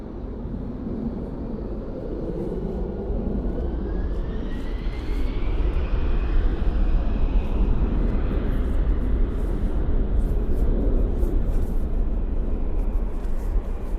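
Jet airliners at Toronto Pearson airport runway, a steady, loud broadband engine roar that swells slightly as an aircraft passes, with a faint rising whine over the rumble.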